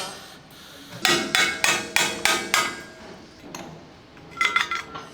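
Hard metallic hammer blows panel-beating a dented muffler from a Panzer I Ausf. B tank: a quick run of about seven ringing strikes, a pause, then a shorter cluster of lighter taps, close and loud with no speech.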